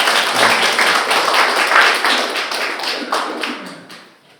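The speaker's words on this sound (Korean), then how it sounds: "예, 박수로 이렇게." Audience applause at the close of a lecture on Dasan's poetry, a dense, steady clapping from a roomful of listeners that fades out toward the end.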